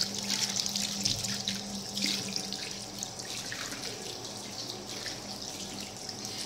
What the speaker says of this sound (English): pour water on the tap